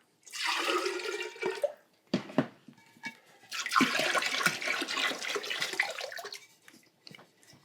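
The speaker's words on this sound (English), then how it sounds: "So I'm just going to start out with the inside, just going to pour that and pull it out really quickly." Clear glaze is poured into and out of a ceramic vase in close, loud liquid gushes. A long sloshing pour comes first, then a brief pause with small splashes, then a second extended rush of liquid.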